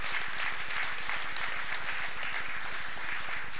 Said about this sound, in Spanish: muchos me aplaudieron acá por adelante